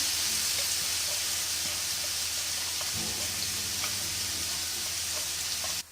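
Chopped capsicum sautéing with onions in a hot pan, giving a steady, loud sizzling hiss throughout, with a few faint scrapes of stirring near the middle and no voices.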